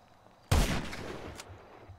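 A single loud gunshot in GTA 5 gameplay with the Quicksilver mod: one sharp close blast that decays over about a second, with faint background before it.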